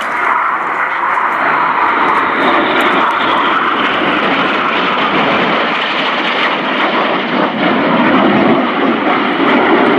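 Red Arrows jets performing display manoeuvres at an air show roar loudly and continuously overhead, a broad sustained engine rush that swells slightly toward the end, with no talk.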